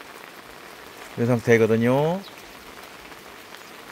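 Steady, soft rain hiss falls outdoors beside beehives, continuing throughout while someone speaks briefly in the middle.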